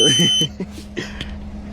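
A high, steady electronic blower alarm tone beeps over people talking nearby, the shrill pitch repeating through the short stretch.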